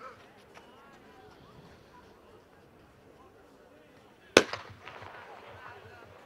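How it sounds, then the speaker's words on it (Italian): A starting pistol fires once at the start of a cross-country race held on Epiphany in Asti, a sharp crack against steady crowd chatter from the runners and spectators, followed by rising bustle. "Colpo di pistola, e anche questa sesta edizione del Cross della Befana ha preso il suo avvio."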